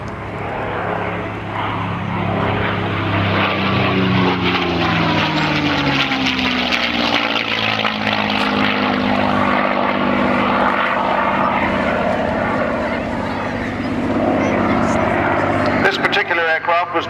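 A propeller-driven F-82 warplane flies past at an air show, its loud, steady engine drone rising and falling as it passes, with a commentator talking over the noise.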